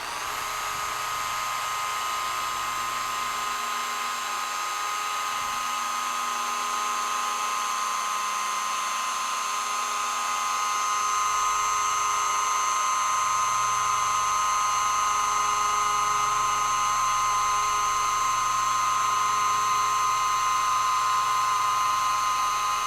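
A car polisher runs at its third speed setting while working Meguiar's M8632 cut and polish cream, a steady high-pitched whine held close and loud for the whole stretch, rising slightly in level partway through, with no voices.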